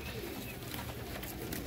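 Pet pigeons, Teddy-breed birds from a loft, coo softly in a low, steady murmur close by across the short stretch, with no talk.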